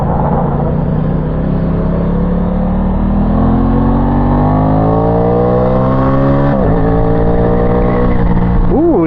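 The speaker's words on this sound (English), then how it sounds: "I think you got to rev this bike out a little bit to have a little fun on it" An Aprilia Tuono 660 motorcycle revs hard, its engine note climbing steadily and loud near the rider, with a dip around a gear change before pulling up again; no talk over it.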